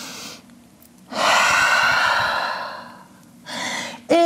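A long, loud breath drawn and released while holding a downward dog yoga pose, a steady rushing exhale followed by a shorter second breath, close and alone.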